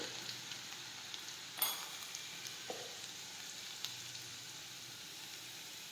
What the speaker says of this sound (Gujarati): આપણું તેલ છે તે ગરમ થઈ ગયું છે. હવે આપણે તેમાં ખાંડેલું લસણ નાખીશું. હિંગ નાખીશું.